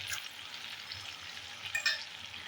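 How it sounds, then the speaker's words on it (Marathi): Ginger and garlic frying in melted butter and oil, a steady close sizzle with light crackling pops throughout and a brief stirring clatter near the end. "मस्का आता आपला वितळला की याच्यामध्ये आपण पहिले आलं आणि लसूण घालून घ्यायचे आहे"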